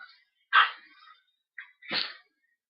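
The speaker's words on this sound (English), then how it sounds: "He likes to bark now." A pet dog at home gives two short, sharp barks about a second apart, fairly close and alone with no talk.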